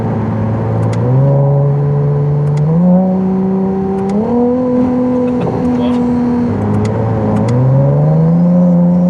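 A Ferrari six-cylinder hybrid engine hums steadily and climbs in pitch through several gear steps as it accelerates in hybrid mode, smooth and close, with a faint voice underneath.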